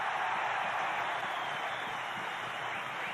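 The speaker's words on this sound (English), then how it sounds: "has got the crowd going" A large stadium crowd at a 1997 India versus Sri Lanka Test cricket match in Colombo roars and applauds steadily after a boundary by Sanath Jayasuriya, a dense, distant, continuous wash of cheering.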